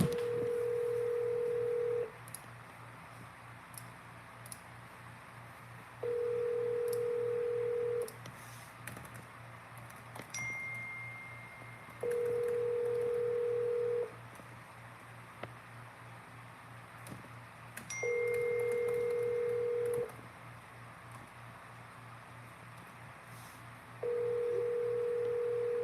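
An outgoing telephone call rings through, with five long, even ringback tones repeating about every six seconds and faint clicks in the quiet gaps between them.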